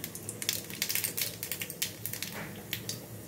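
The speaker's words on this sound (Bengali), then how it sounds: "তেল গরম হয়ে গেছে, আমি তেলের মধ্যে একবারে কালো জিরাটা দিয়ে দিলাম" Nigella seeds crackle and sizzle in hot oil for a Bengali potol posto, a close, busy spitting patter of sharp pops over a steady fry hiss with no talking.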